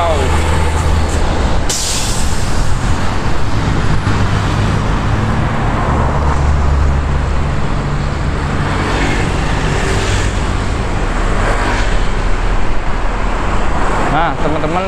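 Continuous city street traffic in Batam, with a Trans Batam bus passing close by, a hiss of air brakes and engines rumbling loudly throughout, while people talk over it.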